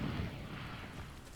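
A short, low rumbling whoosh-boom of the Incendio fire spell being cast in Hogwarts Legacy, a single muffled burst that quickly tails off.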